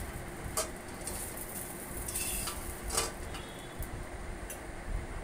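Eggplant frying in oil in a kadai, a continuous hiss of sizzling with occasional sharp clinks of a utensil against the pan, close up and without speech.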